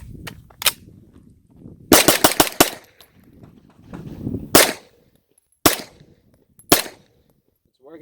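An Extar EP45 pistol caliber carbine fires outdoors: a few single shots, then a fast string of four or five, then more spaced single shots, sharp and loud up close, with some faint handling noise between them.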